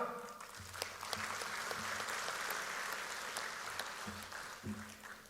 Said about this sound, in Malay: Sekali lagi tepukan untuk rakan-rakan kita dari Sabah.